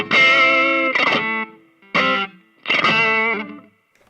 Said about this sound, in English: raking through on notes sounds cool too